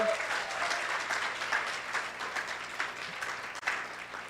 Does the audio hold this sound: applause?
yes